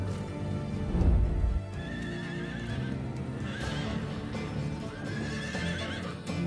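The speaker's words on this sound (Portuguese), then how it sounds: "Manadas de mustangues selvagens vagueiam pelos matagais." Wild mustang horses neigh and whinny across open scrubland, with several calls rising over a steady rumble of galloping hooves and a heavy thump near the start.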